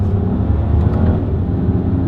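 A 2018 Volkswagen Passat GT's naturally aspirated engine revving, a loud close low-pitched drone with slight rises and dips in intensity.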